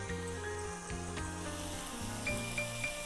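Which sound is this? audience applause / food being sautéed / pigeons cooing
food being sautéed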